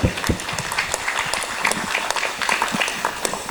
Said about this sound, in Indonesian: Tepuk tangan untuk presenter kedua